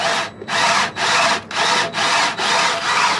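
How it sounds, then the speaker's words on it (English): A loud power drill whines in repeated bursts, driving screws into metal on a lifted Silverado in about six strong pulses with brief pauses between them. "drilling those screws right here"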